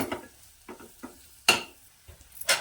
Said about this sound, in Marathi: मसाला चांगला परतून परतून घ्यायचा